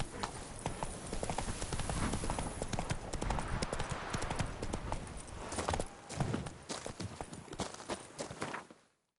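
Horse hooves clip-clopping at a quick, steady trot-to-gallop rhythm in The Witcher 3: Blood and Wine, loud and close, the drumming continuing until it stops abruptly near the end.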